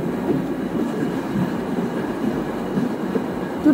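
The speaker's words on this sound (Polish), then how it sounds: "Dopinamy resztę pociągu do lokomotywy." A locomotive is coupled to the rest of a tourist train at a station, with a steady low rumble of rail cars and a heavier thud at the very end. No one speaks.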